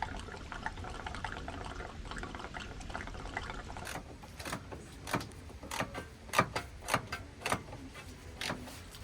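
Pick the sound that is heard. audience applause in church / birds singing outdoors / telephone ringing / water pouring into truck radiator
water pouring into truck radiator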